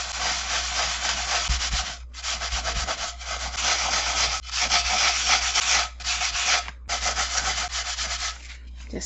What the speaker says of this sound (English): with our wet sponge, just going to start scrubbing this, and just do a circular motion.